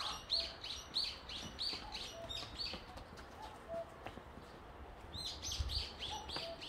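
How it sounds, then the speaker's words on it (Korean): Birds chirp repeatedly among red pine trees at Ojukheon, with short bright calls in bursts near the start and again toward the end over a soft outdoor background. "새소리 들리시나요?"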